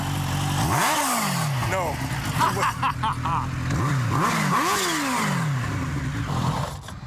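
A motorcycle engine revs in sharp, repeated bursts, each rising and falling in pitch, close and loud in a parking lot, with people talking briefly over it.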